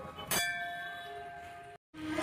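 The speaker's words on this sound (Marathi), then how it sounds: "घंटी वाजवल्याशिवाय मजा नाही मित्रांनो देवदर्शन करायला." A metal bell rings in a Hindu goddess temple: one sharp strike followed by a long bright ringing tone that slowly fades, then a brief gap and another ring at the end.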